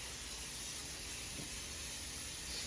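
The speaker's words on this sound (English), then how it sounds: "Spraying it with oil" Cooking oil spray hisses from a can into a 9x13 baking pan for a cake, a steady, even spray held for several seconds at close range.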